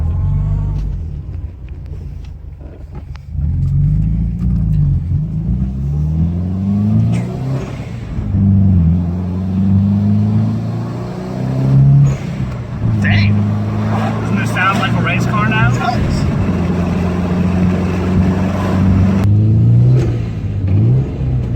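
A Subaru WRX with an HKS aftermarket exhaust revs and accelerates hard with a deep, throaty exhaust rumble, rising through gears, while people talk excitedly over it.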